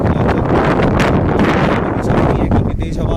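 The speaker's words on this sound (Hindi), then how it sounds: "काफ़ी तेज हवा" Strong wind blowing beside a bridge at Limtara in Chhattisgarh, a steady loud roar buffeting the microphone throughout with rustling, no pauses or gusts dropping away.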